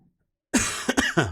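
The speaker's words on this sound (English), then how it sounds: "I'm really sorry for the coughing" One person coughs close up after a moment of silence, a quick run of three or four harsh, loud bursts.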